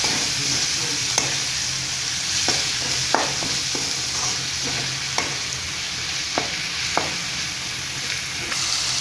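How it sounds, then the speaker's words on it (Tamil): Chopped tomatoes sautéing in a pan for a cauliflower and potato fry make a steady, moderate sizzle, with sharp spoon clicks and scrapes against the pan every second or two. "தக்காளி நல்லா வணக்கி விடுங்க"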